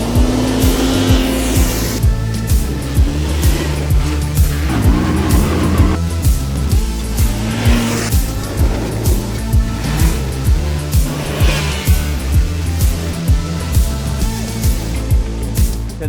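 A 2021 Yamaha YXZ1000R SS SE side-by-side off-road vehicle's engine drones loudly and continuously, revving with rhythmic surges and a gritty rumble as it drives along.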